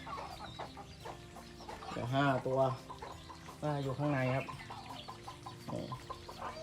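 Mother hen with six chicks at a small farm, clucking in soft, low bursts with two louder clucking stretches in the middle, while someone talks close by over the calls.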